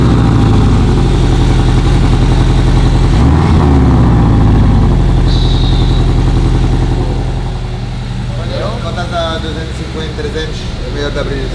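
A car's engine idles and revs with its exhaust valve open, loud and close, with a deep rumble that swells and then settles to a lower steady drone.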